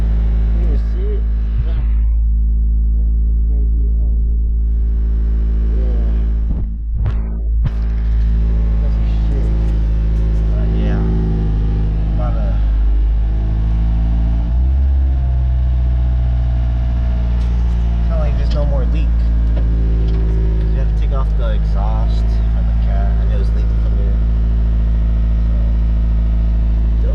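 Car with a newly installed short shifter, a Da9 chassis, drives and revs, its engine droning loud and steady in the cabin with gear changes and rising pulls, while people talk over it.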